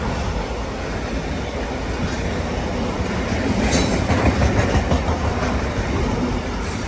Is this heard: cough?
no